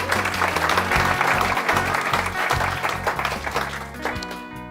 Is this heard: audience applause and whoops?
yes